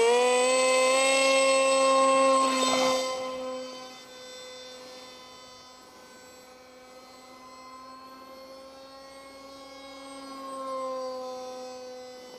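A Turnigy 2826/6 2200Kv electric motor on an RC F18 plane runs with a loud, steady high-pitched whine, drops in pitch and volume partway through, then rises again slightly near the end.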